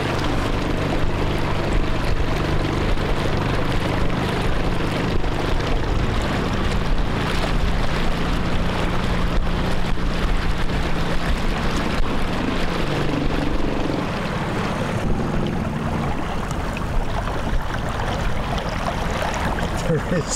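A boat motor runs steadily on a sunset cruise, a continuous low engine drone with wind and water noise throughout, while people talk over it.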